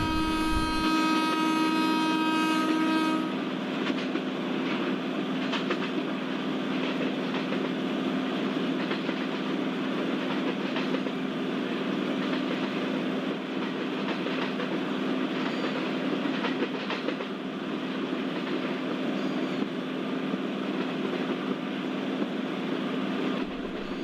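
The Kanyakumari Express rolls along the main line with a continuous rumbling roar and faint clickety-clack of wheels over rail joints, steady and close throughout, with a short horn-like tone right at the start.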